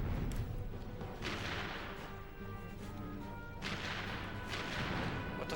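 Bursts of gunfire and explosions from the Ratchet and Clank video game. They come as loud, broad crashing blasts, several spaced a second or two apart over a dense continuous rumble, with no voices.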